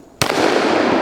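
A single loud, close gunshot from a 10mm pistol firing Trophy Bonded ammunition, a sharp crack followed by a short echoing decay outdoors.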